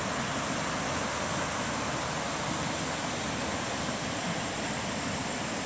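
The East Fork of the Pigeon River rushes steadily nearby, a dense, unbroken broadband roar of flowing water that holds constant throughout with no voices.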